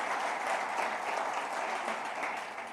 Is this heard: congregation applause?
yes